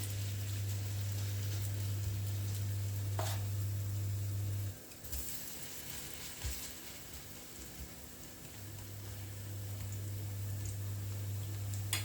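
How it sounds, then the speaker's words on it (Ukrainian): Oil sizzles and crackles softly in a pan as cabbage fritters fry, a continuous fine hiss with a low steady hum coming and going underneath. "Наша пательня з олією вже нагрілася, і можна смажити оладки."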